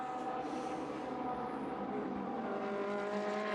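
Ferrari Challenge race cars screaming around the Mugello circuit in a Coppa Shell race, a steady loud blend of high-revving engines as cars run close together, with no talk.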